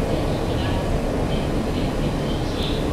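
Steady, dense rumble of the West Express Ginga night express train running on the line toward Izumoshi near Houki-Daisen, heard from inside as a continuous, even roar with no pauses.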